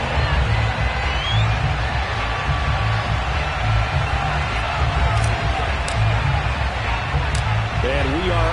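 A packed Buffalo stadium crowd roars at an NFL game between the Bills and the Green Bay Packers, a dense, constant wash of cheering with a commentator talking over it.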